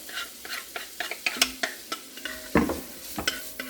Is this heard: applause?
no